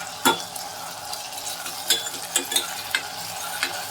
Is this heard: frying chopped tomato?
yes